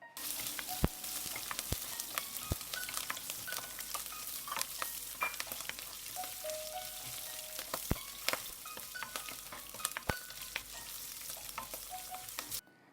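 Green chili, ginger and curry leaves sautéing in a pan for vermicelli upma: a soft, continuous sizzle broken by crisp ladle clicks and scrapes at irregular intervals, near but quiet.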